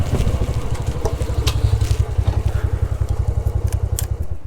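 A motorcycle engine idles close by while the bike is parked outside the gates of Rohtas Fort in Jhelum, a steady, rapid low thumping putter with light mechanical clatter on top.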